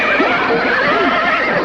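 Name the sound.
horse neighing, audio drama sound effect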